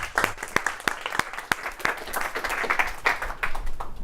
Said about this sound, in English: Give a round of applause for Anders.